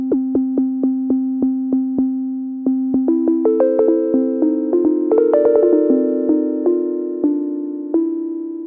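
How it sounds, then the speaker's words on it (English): An Ableton Live Simpler synth patch with a short decay and a pitch envelope plays a steady run of bright, plucky, piano-like notes. The line starts on one repeated pitch, then climbs through a melodic figure, close and clean, with no talking. "bring it down till it's more of a strikey, plucky sound"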